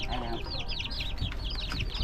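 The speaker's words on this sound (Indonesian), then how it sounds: "Ini ayam, Kek." A hen and her chicks at a rundown rural house cluck and peep faintly in quick, irregular bursts over low background rumble, with some voices nearby.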